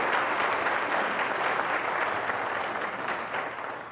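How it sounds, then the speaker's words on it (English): Steady, dense audience applause at a high school senior award night, loud and sustained throughout before easing slightly at the end. "so let's give them a round of applause."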